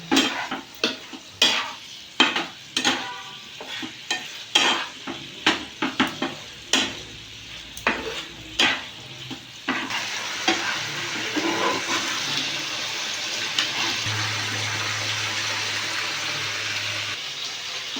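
Mustard oil being stirred in a pan for mustard hilsa, with a run of distinct scraping strokes at first that give way to a steady sizzling hiss, close and fairly loud with no talking.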